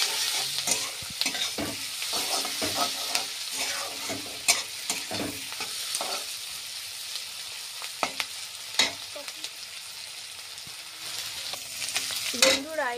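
Onion and chili frying in a pan while a utensil stirs them, giving a constant hissing sizzle with irregular scraping and tapping strokes, near and fairly quiet, no voices present.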